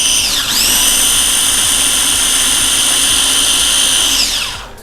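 A small electric grinder or blender whirs steadily and loudly as it grinds grated ginger into a paste, spinning up, holding an even high whine for several seconds, then winding down.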